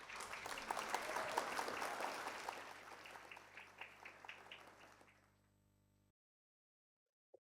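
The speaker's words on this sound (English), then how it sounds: "So please join your hands with a big round of applause" An audience claps loudly in a sustained round of applause that gradually thins out and fades to silence.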